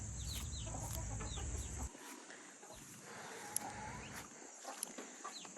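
Chickens cluck and chatter softly close by at a chicken coop, short repeated calls scattered over a noisy outdoor background that quiets partway through.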